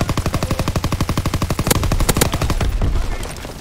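Rapid automatic gunfire from a World War II video game, a steady rattling burst of closely spaced shots that gives way to a few heavier, louder reports and then fading echo and battle din.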